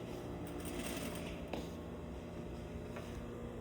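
Sewing machine back stitching along the edge of a rolled collar, a continuous close mechanical whir with rapid needle chatter, steady throughout the short stretch.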